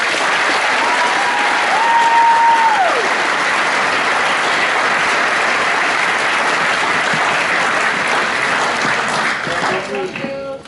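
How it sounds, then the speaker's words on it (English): A graduation audience applauds steadily and loudly for about ten seconds, the dense clapping fading near the end, with a brief tone or voice line sounding over it early on. "So a round of applause for them, please."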